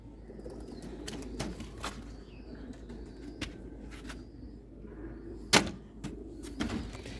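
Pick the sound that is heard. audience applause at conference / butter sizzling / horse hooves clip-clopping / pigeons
pigeons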